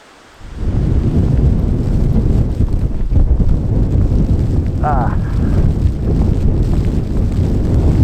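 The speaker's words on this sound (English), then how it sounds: "This wind is no good." Strong wind buffets the microphone on a walk around town, a loud continuous low rumble and roar that starts abruptly after a short quiet moment and persists throughout, with gusting swells.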